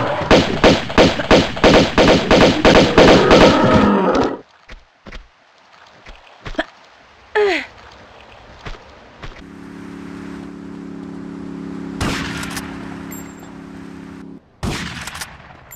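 Rapid gunfire from a video game with unlimited ammunition bursts loudly in a dense, fast volley, then cuts off into scattered thuds, a brief whoosh, a low droning hum and a few final sharp hits.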